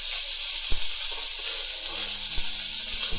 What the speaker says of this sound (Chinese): 我哋先煎两边先